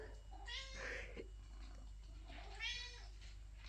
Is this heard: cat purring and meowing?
yes